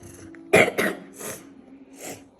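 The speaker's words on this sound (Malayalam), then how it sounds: "നല്ല ചുമയാണല്ലോ" A person coughs a few times at close range: one sharper burst followed by softer, rougher coughs spaced out over a couple of seconds, fairly quiet overall.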